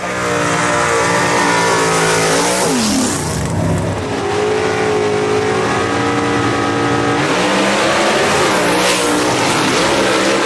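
A gasser drag racing car launches hard down the dragstrip at Shadyside Dragway, its engine roaring loud and close as the revs climb and shift across the whole run, with no voices over it.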